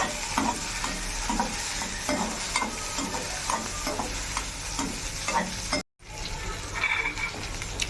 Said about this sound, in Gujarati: લીલા મરચાં નાખીએ, એને પણ થોડુંક ફ્રાય કરી દેવાનું છે